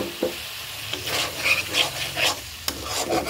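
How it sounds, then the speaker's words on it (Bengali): Potato pieces tipped into hot oil in the pan after the bhetki fish is lifted out, giving a close, steady sizzle with scraping stirs and a few sharp clinks, no talking. "এখন আমি আলুগুলো দিয়ে দেবো।"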